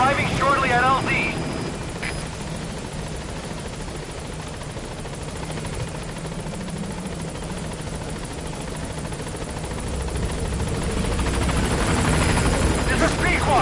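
The Pequod helicopter from Metal Gear Solid arriving at a landing zone, a steady rotor and engine drone throughout that swells louder near the end, with radio chatter at the start.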